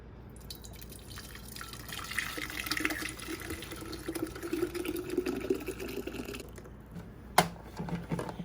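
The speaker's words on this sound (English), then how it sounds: "so I'm just going to add my water" Water pours steadily into a container while making strawberry lemonade, a continuous splashing trickle for several seconds, with a brief knock near the end.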